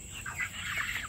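Faint, soft cheeping and clucking from young chicks on a farm, short high calls in a quiet outdoor setting with a steady background hiss.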